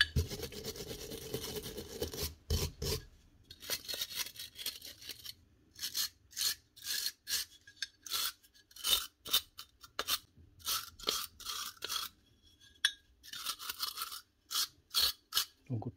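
Stiff brush scrubbing surface grime off aluminium nail gun parts on a workbench, rapid bursts of bristly scraping strokes in short rhythmic runs, close and fairly loud with brief pauses between.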